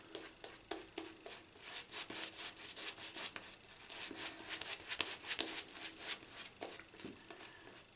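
A coarse boar bristle shaving brush swirls over a soap puck, producing close, rhythmic bristly scrubbing strokes, a dense scratchy rubbing that rises and falls with each circular pass.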